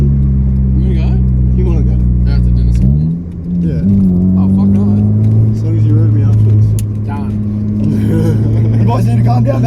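A ute engine drones and revs as the vehicle slides sideways with understeer, a loud steady hum that dips and climbs in pitch midway, under excited voices talking throughout.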